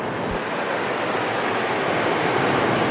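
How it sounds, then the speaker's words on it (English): Waterfall water at Mount Rainier runs under a road bridge in a loud, steady, close rush with no pauses. "you hear the water running"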